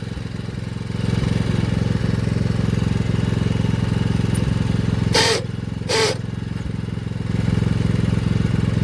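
Small power weeder engine chugging steadily while working through thick grass in a field, a loud continuous mid-pitched drone with two brief sharp bursts partway through and no talk.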